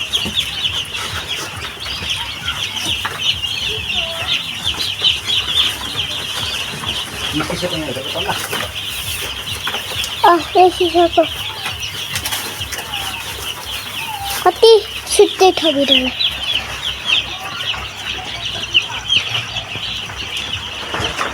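Chickens and chicks clucking on a Nepali farm, with a steady high insect-like drone throughout and occasional louder cluck bursts near and mid-distance; a person speaks briefly.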